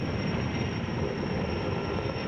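A helicopter working on tower construction at height gives a steady, dense rotor and engine roar, loud and constant throughout with no talk.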